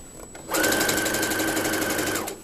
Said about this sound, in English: I'm going to go back around and sew at the bottom to make sure it's just going to fit right.